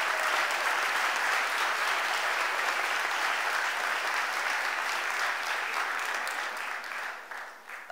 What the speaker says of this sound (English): Give our Sheriff a huge round of applause.